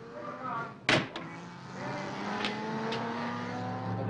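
A racing car competing in a road race to Brescia, its engine holding a steady droning tone throughout, broken near the start by a sharp knock and a couple of brief clicks.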